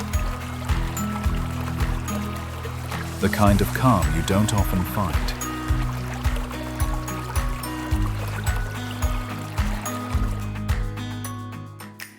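A forest stream flows steadily beside a waterfall in the Western Ghats, a continuous close wash of water with a steady pulsing rhythm underneath, heard under a calm spoken voice.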